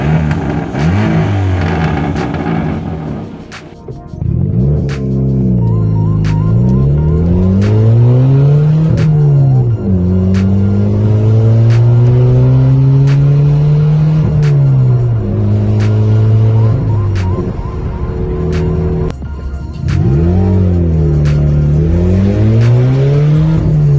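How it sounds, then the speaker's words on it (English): 2004 Ford Fiesta Mk6 with a faulty exhaust back box, loud and close, revving up and down repeatedly with rising and falling engine tones and a brief dip in the middle. "Norman has got a slight issue with the back box of the exhaust"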